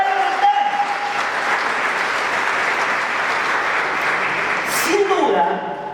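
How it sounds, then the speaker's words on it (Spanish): A church congregation applauds the Lord after a sermon, a loud sustained wash of clapping from the crowd with a voice and some tonal sound rising near the start and end before it tapers off. "¿Cuántos aplauden al Señor por esta palabra?"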